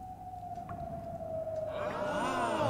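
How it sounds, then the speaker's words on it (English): Wind blowing through a cave in an animated scene, a thin sustained whistling tone that slowly falls in pitch and then gives way to a warbling, swelling whoosh, faint at first and growing louder. "In certain areas of the cave, the wind actually blows through, causing a sound you can hear."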